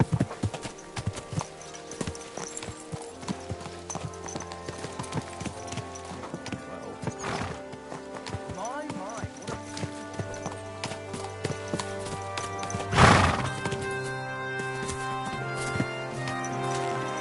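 Horse hooves clip-clop in a steady walking rhythm throughout a medieval Kingdom Come video game scene, with a loud whinny rising about two-thirds through, close and clear over faint ambient music.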